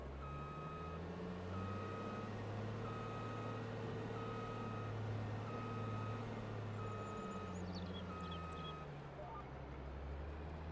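A truck reverses in Farming Simulator 22, its evenly spaced backup beeps repeating steadily over a low, constant engine drone, with the engine note shifting toward the end.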